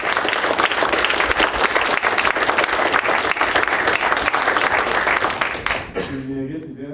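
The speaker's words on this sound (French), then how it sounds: "ça vaut encore une main d'applaudissement" Loud, dense audience applause at a press conference in L'Orignal, continuing evenly for about six seconds before fading out as a voice begins speaking.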